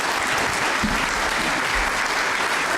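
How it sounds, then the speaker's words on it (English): Audience applause for candidates at a 2018 sheriff candidate debate, a steady, dense wash of clapping from a crowd that stays fairly even in loudness for a few seconds. "please offer your applause to the candidates."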